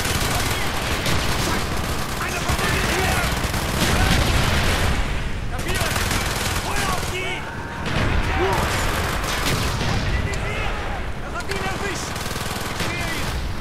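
A PPSh submachine gun fires in the Call of Duty: Black Ops game amid dense game combat, with loud rapid bursts and booming explosions that barely let up. A voice talks over the gunfire.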